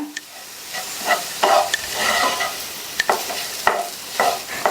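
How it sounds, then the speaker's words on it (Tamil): Ground garlic paste being stirred into carrots frying in a pan, crisp sizzling under sharp, irregular spoon scrapes and clinks against the pan, close up and without talk. "இது கூட நம்ம இப்போ அரைச்ச கலவையை சேர்த்துட்டு நல்லா மிக்ஸ் பண்ணி விட்டுருங்க."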